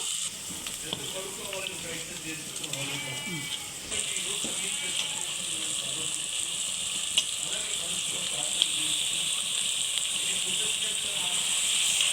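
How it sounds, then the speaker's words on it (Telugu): Chicken goes into a pan of half-cooked onions for a Telugu gravy chicken curry, setting off a continuous hissing sizzle with light stirring and some background voice. "ఇప్పుడు చికెన్ వేసేసుకుందాం"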